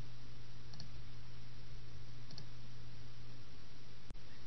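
A computer mouse gives two faint, separate clicks about a second and a half apart against a steady background hiss, with no speech.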